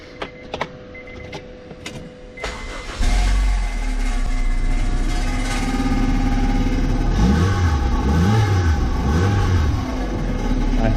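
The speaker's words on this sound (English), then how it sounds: "I want to turn the car on." A few clicks and faint mechanical noises, then a 1998 Honda CR-V engine starts after a catalytic converter installation and settles into a steady, close idle with a slight rise and fall in pitch.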